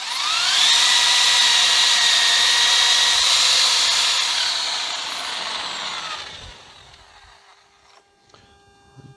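A drill spins a wire brush against rusty threads on a Fiat Punto gearbox bolt, giving a loud, sustained, high whine that slowly drops in pitch as it winds down and stops.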